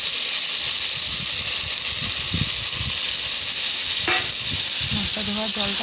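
Spice paste sizzling and frying in a pan as it is stirred, a loud constant hiss close up with scraping stirs and a brief faint voice near the end.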